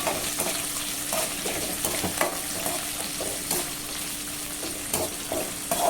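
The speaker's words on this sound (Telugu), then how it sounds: "ఆనియన్స్ని బ్రౌన్ కలర్ వచ్చేంత వరకు బాగా వేయించుకోవాలి." Onions fry in hot oil with tempering spices for a Telugu bottle gourd dal, giving a continuous loud sizzle broken by regular scraping stirs of a spoon in the pan.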